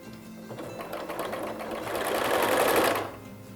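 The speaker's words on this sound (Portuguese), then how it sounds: "E agora a gente vai passando, vai costurar já." A sewing machine stitches bias binding onto fabric for an Easter gift package, running in one steady continuous burst close by that swells louder toward the end before stopping abruptly.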